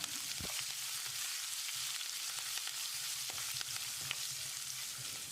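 Steady sizzling of spices and asafoetida frying in hot oil for potato masala, a continuous crackle with a few sharper pops, close and fairly quiet, no voices.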